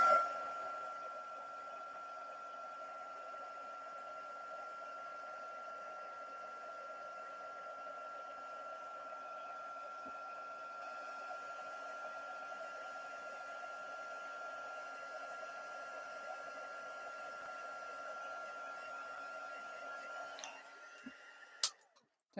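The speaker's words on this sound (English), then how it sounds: "let's bring in the old heat gun just to melt that powder." A heat gun melts embossing powder on a handmade craft project, its steady whining fan and airflow droning on evenly for about twenty seconds before clicking off at the end.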